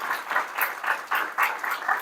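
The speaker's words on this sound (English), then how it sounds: "I want to round of applause for Taryn." An audience claps in a round of applause for a speaker at a conference session, with dense overlapping claps pulsing along for about two seconds.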